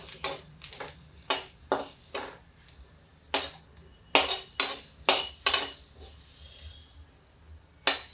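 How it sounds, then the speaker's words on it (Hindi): Bay leaf, cumin and fennel seeds hit hot oil in a pan, giving a run of sharp crackles and spoon-and-pan clinks in irregular bursts, close and fairly loud, with short quiet gaps between. "ये तेज पत्ते, जीरा और सौंफ, बस। इससे ज़्यादा हम कुछ डालेंगे नहीं। इसको तड़कना है।"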